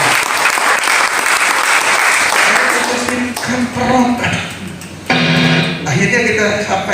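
A congregation bursts into sustained, dense applause at a worship service held in an apartment. The clapping is loud and steady at first, then thins as voices and tonal sounds rise over it.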